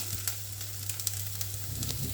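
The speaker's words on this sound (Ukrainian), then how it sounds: "Поки наша цибуля обсмажується" Onions sizzle and crackle in hot oil, a steady frying hiss with scattered pops and no voices.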